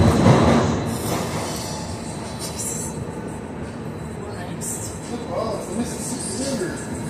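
A MetroLink passenger train rides into Saint Louis, Missouri, its steady interior rumble and rolling rail noise filling the car, louder at the start, while people talk over it.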